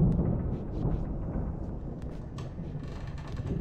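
A deep, rolling rumble of storm thunder in the video game Alan Wake, loud and continuous, with faint crackling on top that could be rain.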